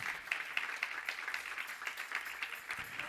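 A church congregation claps together during a Spanish-language sermon, a soft, fairly distant wash of many hands with a loose rhythmic pulse, continuing throughout without clear speech.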